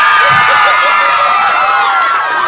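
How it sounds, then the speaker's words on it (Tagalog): Children cheering and shouting at a summer camp applause contest, a dense, loud wall of young voices with clapping blended in, continuous and close throughout. "Palakasan ng palakpak"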